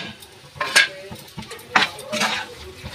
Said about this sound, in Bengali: গরম মশলাটা নাড়িয়ে নিলাম।